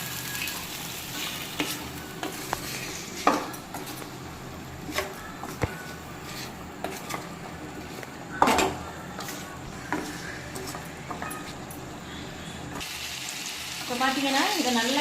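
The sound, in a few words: stirring cauliflower and peas frying in oil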